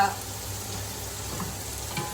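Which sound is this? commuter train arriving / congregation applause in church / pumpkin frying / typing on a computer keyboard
pumpkin frying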